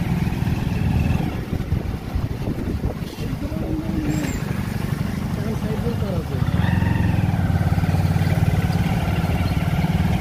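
A 125cc motorcycle crawls through a traffic jam on a long ride from Dakshin Dinajpur toward the Maha Kumbh, giving a steady low engine drone mixed with wind buffeting that grows slightly louder and fuller partway through.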